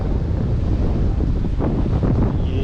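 Strong waves whipped up by wind near an island on a Krabi four-island boat tour, heard as a steady loud roar of surf with heavy wind buffeting the microphone throughout, no talk.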